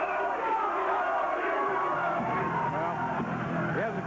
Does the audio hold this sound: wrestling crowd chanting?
yes